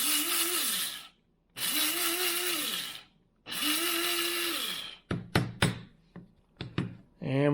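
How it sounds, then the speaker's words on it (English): A cheap spice grinder, used here as a coffee grinder, blitzes oat seeds in three loud whirring bursts, each winding down, followed by short clattering shakes and taps of the seeds inside. "Just buy a cheap coffee grinder."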